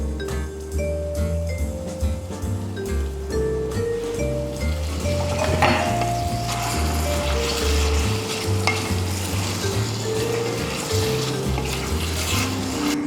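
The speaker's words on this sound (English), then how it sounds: "I'm going to toss this around in our garlic oil with our cherry tomatoes, chili padi from our farm" Pasta sizzles as it is tossed in garlic oil with cherry tomatoes and chili padi, a steady frying hiss broken by utensil clinks and stirring scrapes.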